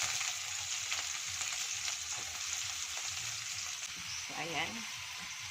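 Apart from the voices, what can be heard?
onion frying and sizzling in a pan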